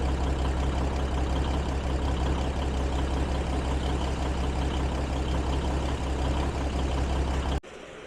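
Diesel truck fitted with a 290 Cummins engine runs steadily at close range, a constant heavy rumble for about seven and a half seconds before it cuts off abruptly near the end.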